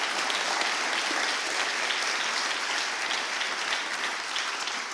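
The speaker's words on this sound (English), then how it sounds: "Give a round of applause." An audience gives a round of applause at a mission review gathering, a steady, even wash of clapping from many hands held at moderate volume for the full stretch, with no talk over it.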